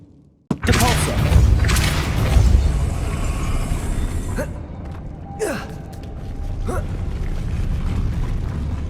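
The Depulso spell cast in Hogwarts Legacy gives a sudden blast followed by a roaring whoosh, then two more sharp magical bursts with swishing tails against a steady game backdrop.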